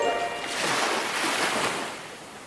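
Sea waves make a steady, broad wash of surf that swells in the middle and fades toward the end, with no voices over it.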